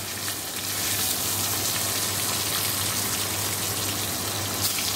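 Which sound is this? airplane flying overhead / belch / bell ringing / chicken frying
chicken frying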